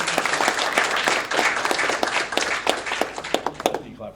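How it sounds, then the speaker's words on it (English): A crowd applauds at a press conference as a guest is called up: dense, loud clapping that fills the room, thinning into scattered individual claps near the end, with voices mixed in. "round of applause for Scott."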